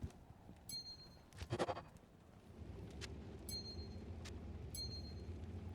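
Cows in the Diablo 2 Resurrected cow level give faint, intermittent bleating moos amid soft game clatter and a low rumbling background, with no talk.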